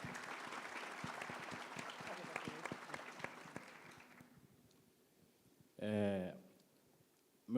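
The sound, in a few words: round of applause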